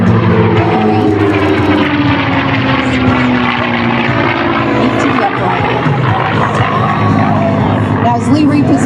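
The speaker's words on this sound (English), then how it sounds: "coming in to bring the Mustang in close for the photo pass" The P-51 Mustang "Crazy Horse" roars past at an air show for a close photo pass, a loud, sustained propeller-engine drone under an announcer's amplified voice.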